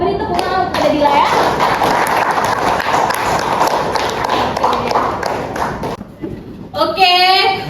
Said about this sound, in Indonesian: beri tepuk tangan kepada Dila ya